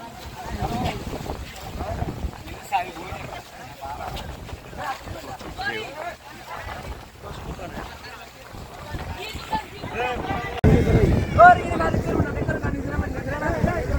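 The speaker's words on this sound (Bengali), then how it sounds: "আমরা নৌকাতে উঠে পড়লাম।" A boat carries passengers on a rough open-water crossing to Hatiya island in Noakhali, with steady wind and water rush beneath people talking; the noise swells louder toward the end.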